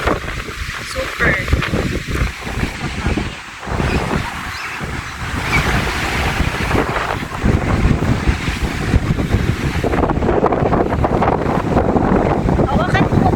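Loud, blustery strong wind buffets the microphone continuously on a ride in Carasi, Piddig, Ilocos Norte, with a voice talking intermittently underneath the roar.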